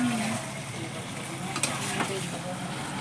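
Meat sautéed and stirred in a pan, a steady hissing sizzle with occasional faint scrapes of the spoon, close by, with a voice faintly heard beneath it.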